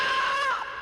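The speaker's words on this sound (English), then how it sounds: "Ghostly shrieks are heard" A ghostly shriek, one high, wavering wail that rises, bends and fades away in under a second, heard alone.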